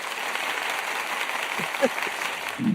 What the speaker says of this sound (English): I'm gonna give you another round of applause.